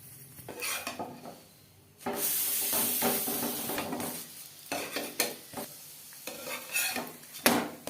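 A cauliflower-stuffed paratha frying in butter and refined oil on a pan, bursts of sizzling broken by spatula scrapes and clinks as it is turned, close up with no voices.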